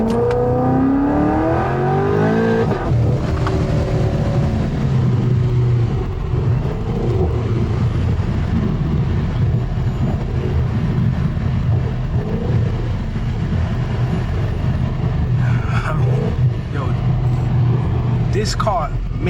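A 700-horsepower Camaro 2SS engine roars and climbs in pitch as it accelerates, then holds a loud, steady drone with muffled voices underneath.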